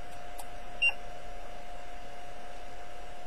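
An Encore E4 car alarm gives a short, sharp arming beep as the car locks, one brief chirp standing out over a steady background hum.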